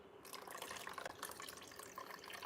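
A little more tap water pours in a continuous light splash for a thick, chunky smoothie, close and quiet with no talking.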